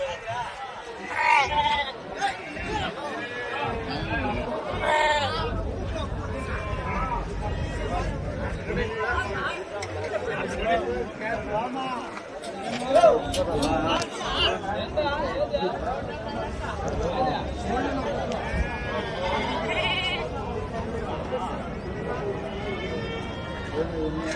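Goats and sheep bleat repeatedly at a busy livestock market, their calls rising now and then over constant crowd chatter and nearby talking.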